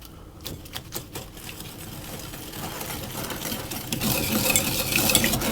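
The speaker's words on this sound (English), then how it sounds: "I'm going to use a whisk just to mix those and get them combined." Butter and sugar being whisked together in a bowl for chocolate and ginger cookies, a busy scraping rattle that starts with scattered clicks and builds into steady, louder whisking, close and alone.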